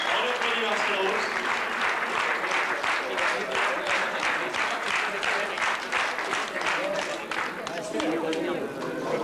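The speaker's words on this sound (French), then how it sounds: "On applaudit Marcel Rose." A crowd applauds a rally driver at the podium of a 1995 French rally, with dense, loud clapping throughout and a voice talking over the applause.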